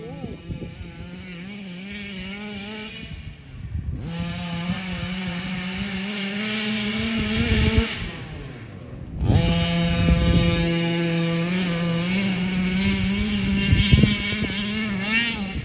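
A Rovan 45 engine fitted with a MaxT Olimat side pipe runs loud and close with a raspy two-stroke buzz, cutting out briefly near four seconds and again around eight to nine seconds before roaring back at higher revs, under occasional voices.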